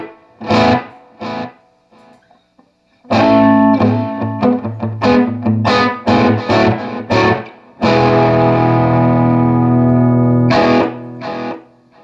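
Electric guitar played through a Benson preamp into a Danelectro Dan-Echo delay pedal, loud distorted chords and short phrases separated by pauses, with warm trailing repeats ringing behind each burst.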